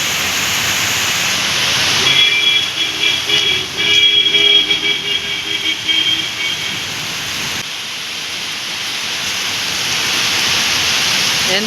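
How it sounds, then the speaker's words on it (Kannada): Heavy rain pours steadily as a dense, continuous roar during a festival day, with faint tonal whistles or horns briefly rising through it near the middle. "ಎಂಥ ಜೋರು ಮಳೆ ಗೊತ್ತಾ"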